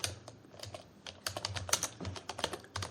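Rapid typing on a computer keyboard, with dense irregular key clicks and a few louder taps, heard alone and close by while someone writes in a browser address bar.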